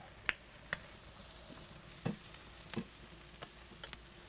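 Chicken wings grilling over a live fire while sauce is poured over the top, giving a faint steady sizzle with a few sharp pops and crackles scattered through.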